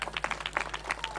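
An audience at a film audio release event claps in a brief burst of quick, uneven hand claps, fairly close, over a low background hum.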